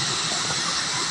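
A strong river current rushes in a constant broadband roar, close and loud, with no speech during the brief stretch.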